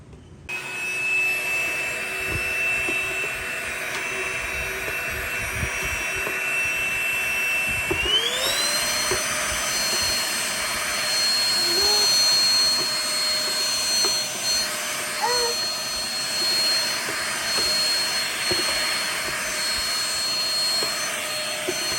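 A Perysmith XP6 cordless vacuum cleaner fitted with its long tube runs steadily with a high-pitched whine that steps up in pitch and power partway through, continuing loud and close with small rattles of debris.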